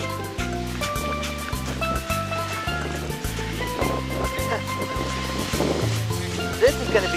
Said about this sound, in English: Look at the wave over there!